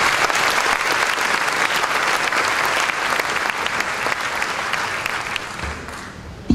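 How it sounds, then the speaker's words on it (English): Audience applause at the opening ceremony of the Euro Attractions Show in Amsterdam, a dense, sustained burst of clapping from a large crowd that carries on evenly before tapering off near the end. "a final round of applause for all of this year's inductees"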